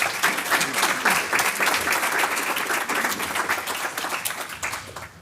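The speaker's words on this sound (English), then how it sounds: "So a round of applause, please." An audience at a tech conference session breaks into applause, a dense, steady burst of many hands clapping that carries on throughout and fades slightly near the end.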